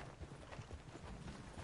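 Horse hooves clip-clop at a steady walking rhythm in the video game Red Dead Redemption 2, a faint, continuous patter with no talk over it.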